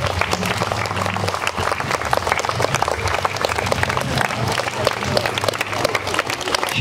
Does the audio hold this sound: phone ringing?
no